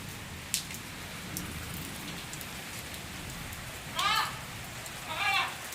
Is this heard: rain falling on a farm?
yes